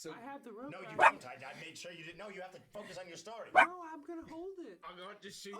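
A pet dog barks twice, sharp and fairly close, over steady conversation between people playing a game indoors.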